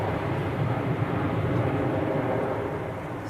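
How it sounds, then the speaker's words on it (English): An EasyJet Airbus A320 departing Manchester's runway 23L, a steady broad jet roar held at an even level throughout, with dense low rumble and no break. "Easyjet A320 going to Copenhagen."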